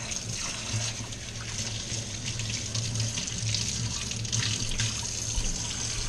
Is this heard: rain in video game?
no